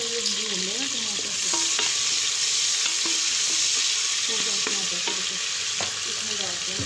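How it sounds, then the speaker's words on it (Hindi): Tomatoes frying in a pan for a rajma curry, giving a loud, steady sizzle with periodic scraping stirs of a spoon, close and continuous, with no talk. "अभी थोड़ा सा ये भून लेना टमाटर"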